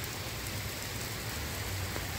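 Heavy rain pours steadily outdoors near downtown Lynnfield, a dense, even hiss of drops hitting surfaces with no pauses and no talking.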